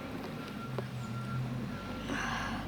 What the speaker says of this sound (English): God dang garbage trucks.